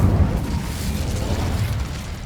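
Incendio fire spell from Hogwarts Legacy being cast to burn spiders: a dense, roaring whoosh of flames with low rumbling bursts, loud and sustained throughout, fading slightly at the end.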